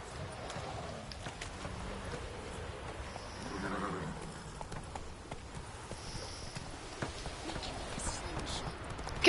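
Horse hooves gallop steadily across ground in The Witcher video game, a continuous rhythmic clatter mixed with game ambience throughout.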